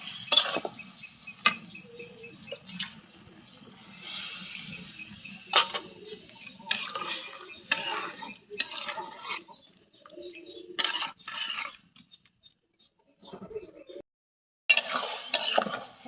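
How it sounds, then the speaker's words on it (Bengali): Bitter gourd and fish being stirred and fried in a pan with a little water nearly cooked off, producing repeated close scraping and spatula clicks over a soft sizzle, with brief pauses and no voices. "আর এখন আমি এরকমভাবে কষাই নেব।"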